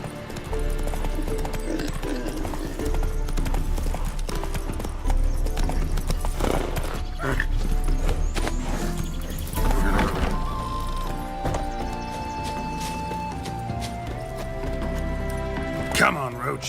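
Horse galloping in the video game The Witcher 3, with steady rhythmic clip-clop hoofbeats over background music, an occasional whinny, and a voice talking over it.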